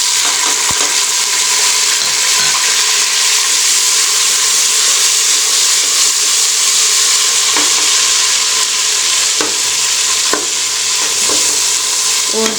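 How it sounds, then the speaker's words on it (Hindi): Onion and garlic sizzle together in a frying pan for a dhaba-style chana daal, a steady broadband hiss with a few light scraping and stirring clicks as tomatoes go in; no talking. "ये आप देख सकते हैं प्याज और लहसुन हमारा एक साथ फ्राई हुआ है"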